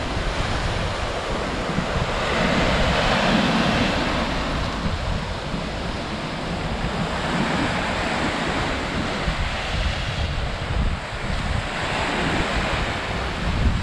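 Wind blowing steadily across a secluded Greek beach, mixed with surf washing on the shore, a constant loud rush with no voices.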